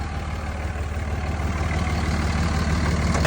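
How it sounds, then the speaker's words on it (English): A 2005 Dodge Ram 5.9 Cummins diesel engine idles with a deep, throbbing rumble through a 5-inch straight pipe from the turbo, a steady low pulsing that grows slightly louder. "Coming from that engine, we are running a straight pipe all the way down"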